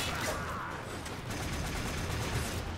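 Gunfire from the video game Warframe rattles in dense, rapid bursts that run without a break, loud and close throughout.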